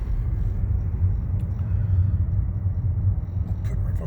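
Cars rolling past on a quiet neighborhood street make a heavy, continuous low rumble of engines and tires, fairly close, with no talking.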